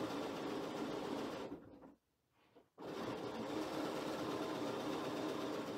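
A sewing machine stitches quilt corner strips in a steady, close whirring run that stops briefly for about a second, then starts up again at the same pace.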